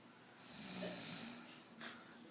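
A sleeping person snores faintly, with one long, raspy breath followed by a brief snort, close and quiet.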